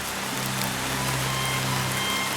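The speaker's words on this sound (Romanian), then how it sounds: "pe timp de ceață și ploaie." Steady rain falls on the surface of a foggy forest near a forest road at Borta Dracului, a dense, even hiss of drops throughout with a faint low engine-like hum beneath and no voices.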